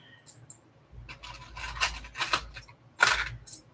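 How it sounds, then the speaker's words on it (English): Loose metal keys rummaged and jangling in a drawer alongside drawer pulls, in several short bursts of clinking and scraping with a sharper rattle near the end, close up and no talking. "Lots of keys."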